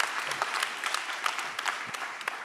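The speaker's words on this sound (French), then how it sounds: "On peut l'applaudir encore," An audience at the opening of a national congress of advanced practice psychiatric nurses claps in a steady patter, with some individual claps standing out.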